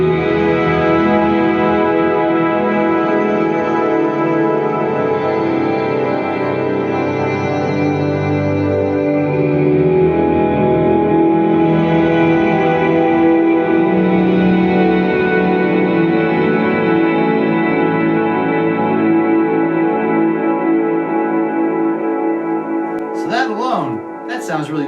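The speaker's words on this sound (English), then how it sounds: "now here's that plex shift multi-delay mixed in with the reverb" A guitar plays sustained, layered tones through a plex shift multi-delay blended with shimmer reverb on a Kemper Profiler. Notes smear into a continuous, echoing wash that stays loud throughout, and a brief pitched sweep comes at the end.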